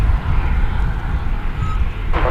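Boeing 777-300ER passenger jet at DFW Airport, a loud, steady low engine roar close by that holds throughout, with a brief burst of hiss near the end.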